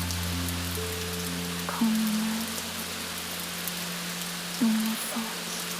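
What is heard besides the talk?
steady rain on a quiet Tokyo night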